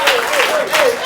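Applause from a studio audience on a talk show about fighting alcoholism, a short steady burst of clapping with a voice speaking over it.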